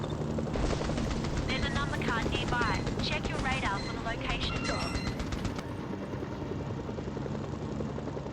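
Helicopter in the game Mercenaries: Playground of Destruction, a continuous rotor drone with gunfire and chirpy game effects layered over it, loud and close the whole time.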